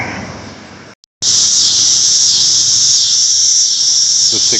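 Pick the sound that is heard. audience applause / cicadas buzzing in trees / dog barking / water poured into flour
cicadas buzzing in trees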